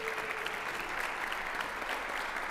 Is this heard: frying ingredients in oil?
no